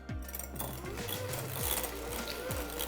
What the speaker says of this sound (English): to make sure it's softened, I always like to take a mixer